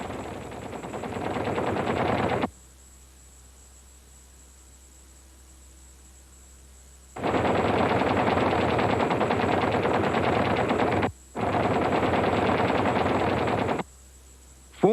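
Machine guns fire from a B-25 Mitchell bomber, with 50 caliber guns mounted in the nose, in long loud roaring bursts broken by silent gaps and a short pause, close and harsh.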